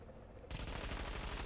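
Video game gunfire in The Division, where a quiet lead-in breaks into a rapid, loud burst of automatic shots that keeps going without pause.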